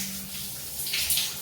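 A steamy shower running, a steady close hiss of spraying water, fairly loud and unbroken, with no voices.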